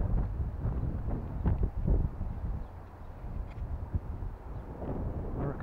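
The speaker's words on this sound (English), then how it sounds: "reckon the wind's coming from over there" Gusty wind blows across an open outdoor field, a steady rumbling buffet against the microphone with low-frequency gusts that swell and ease, no voices heard.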